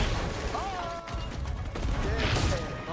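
Cannon fire in a Diablo action game, booming blasts and mechanical clatter mixed with dense game effects, with a person talking over the top throughout.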